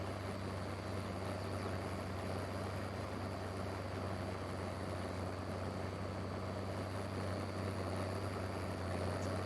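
A vintage Oliver tractor engine in a farming video game: a steady, continuous low droning rumble at an even level throughout, with no voices.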